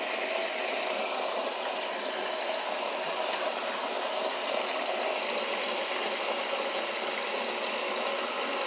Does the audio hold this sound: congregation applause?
no